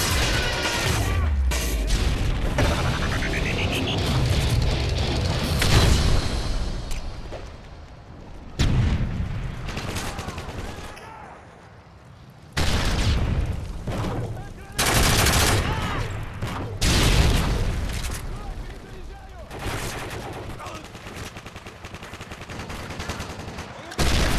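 Rapid bursts of gunfire from a P90 in Call of Duty MW3 multiplayer crackle in loud, dense volleys separated by brief pauses, with players talking over the shooting.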